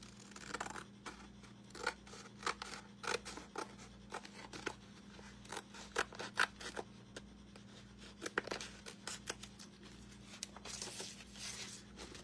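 Scissors cutting through a Dollar Tree canvas in quick, irregular snips and rasping strokes, faint and close, over a low steady hum with no talk.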